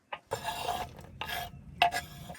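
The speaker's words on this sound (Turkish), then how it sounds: "Hepsini böyle güzel harmanlayacağız." Chopped food stirred together in a pot at a campsite, several short scraping and rustling strokes of a utensil against the pot, soft and close, with no talk.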